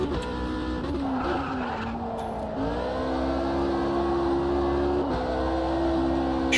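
Race car in a racing video game spinning its wheels out of a corner, a steady engine drone with tire squeal and skidding that holds throughout, with short shifts breaking the tone.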